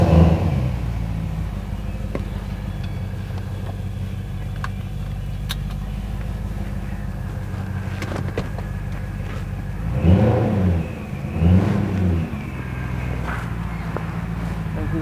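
A lowered BMW E34/E32 with bump steer spacers pulls out of a garage: a steady close engine hum with a low rumble, a couple of brief rev swells near the end, and light knocks and rattles over it.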